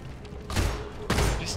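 Pistol gunfire in the game Deep Rock Galactic comes as two loud bursts of shots, close and punchy, separated by a short pause.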